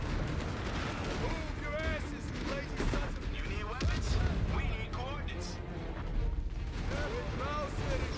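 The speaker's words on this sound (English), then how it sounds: "then I'm using satchel charges to destroy the anti-air batteries" Explosions from satchel charges and bursts of gunfire in Company of Heroes 3, a steady battlefield din of blasts and shots beneath someone talking throughout.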